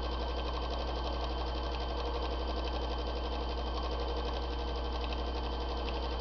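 Embroidery sewing machine stitching a fabric bowl cozy, a steady, continuous mechanical whir and rapid needle chatter running evenly throughout at moderate level with no pauses or talk.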